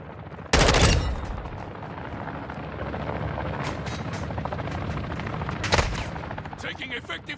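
Game gunfire in a Call of Duty DMZ match: a loud burst of shots near the start, continuous helicopter-like engine drone throughout, and another sharp burst near the end.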